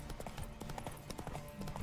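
A horse's hooves clip-clop steadily in The Witcher 3, quick rhythmic thuds repeating under a quiet game soundscape.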